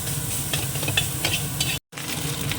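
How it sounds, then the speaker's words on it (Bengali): Prawns crackle and sizzle in hot oil, a steady close frying sound with light stirring scrapes throughout. "চিংড়িটা একদম লাল করে ভাজা হয়ে গেছে"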